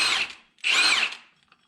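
A power tool, the big gun, removing an idler pulley from the 4.0 V6 engine of a 2006 Mustang, whirring in two short high-pitched bursts, close and loud, with no talk.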